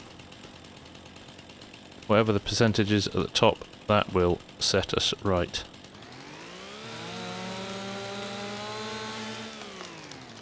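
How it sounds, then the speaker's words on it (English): A chainsaw starts and runs steadily with a rising then level engine whine, heard after someone speaks, set in farm fields where trees are about to be cut down. "let's get the chainsaw out."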